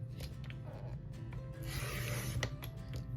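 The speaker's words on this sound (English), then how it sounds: "I'm going to cut off 1 inch on the long side of this" Paper for a small journal with flip-out pages is cut, an inch trimmed from the long side, making a quiet close rasping, scraping stroke that swells briefly midway, alone with no voices.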